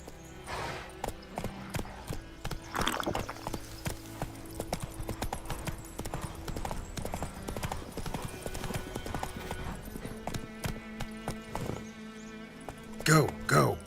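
Roach the horse trotting in The Witcher 3: Wild Hunt, a steady clip-clop of hooves running throughout at moderate volume, with a voice speaking over it near the end.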